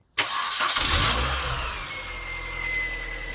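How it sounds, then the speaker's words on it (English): A Mini Cooper S R53 engine cranks and catches with a sharp start, revs briefly, then settles into a steady idle with a faint high whine above it. "Let's start the engine."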